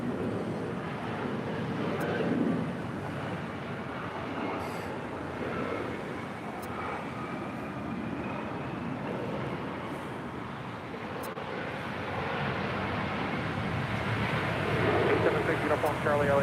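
A Southwest airliner takes off from runway 7 left at LAX, a steady broadband jet roar that swells slightly toward the end. It holds at moderate distance throughout with no pauses.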